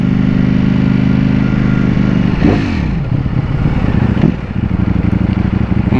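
Ducati V4S motorcycle engine heard close up while riding, a loud steady rumbling drone with a rising and falling rev around the middle and a brief throttle change near the end, no talking.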